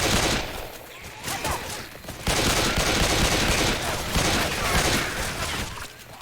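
Rapid, dense pistol gunfire in a zombies video game, shots overlapping into a continuous loud barrage from start to finish, with voices talking now and then underneath.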